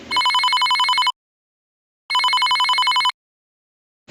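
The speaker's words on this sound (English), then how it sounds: "all of a sudden the phone starts ringing again" A telephone rings in two long electronic trills separated by a second of silence, loud and close, with a third ring just starting.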